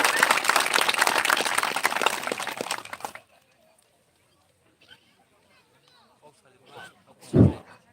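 A political rally crowd in Kamalpur claps hard for about three seconds for a party candidate, then the applause cuts off into near quiet broken by a few faint knocks and one loud thump near the end.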